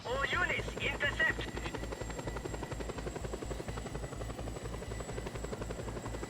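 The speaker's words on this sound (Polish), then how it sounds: "O kurde, jest helikopter! Blisko, blisko, blisko, blisko, blisko." A helicopter flies close by in the video game Just Cause 2, its rotor blades beating in a fast, steady, loud thump that lasts the whole stretch.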